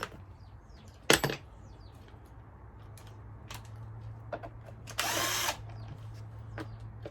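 A power driver fitted with a T27 bit, used while tearing down a Stihl MS310 chainsaw, gives a brief sharp whirr and later a longer, louder burst of about half a second, with small workshop clatter and a steady low hum between.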